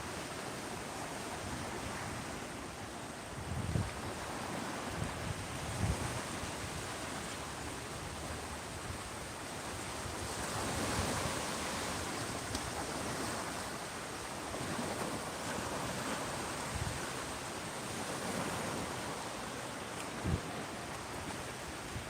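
Steady surf at the beach in Clearwater, Florida, a continuous broad wash of breaking ocean waves with gentle swells, mixed with some wind rumble on the microphone and no talking.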